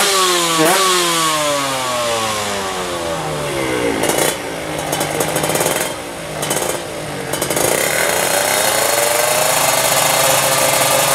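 A drag racing motorcycle engine revs hard at the start line, a loud, close, raspy high-revving wail that climbs, dips and surges again in repeated throttle blips, with no talk over it.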